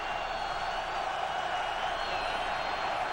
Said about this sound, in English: This crowd now is creating some noise